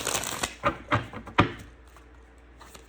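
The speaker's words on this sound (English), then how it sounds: "one more shuffle" A few quick riffling bursts of tarot cards being shuffled close by during a reading, followed by quieter handling and a soft tap at the end.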